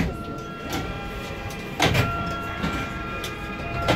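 At a station on the Hakone cable car, the car's doors slide open with a brief burst of rumbling noise, while a steady tonal hum carries on underneath.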